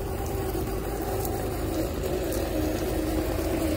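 An outboard boat motor runs steadily while being flushed with Salt Bright solution, a continuous even engine drone with a watery hiss, close and constant throughout with no talk.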